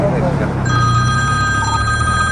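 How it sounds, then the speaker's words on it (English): A phone rings with a steady electronic tone over loud, rumbling background noise, taking up the last part of the moment at a police encounter near a main gate. "I'm getting a phone call."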